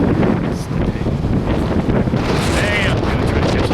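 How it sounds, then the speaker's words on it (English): Strong wind buffets an outdoor microphone near a 1979 AMX, a loud continuous rumbling roar with gusty swells throughout. "It's a little windy today."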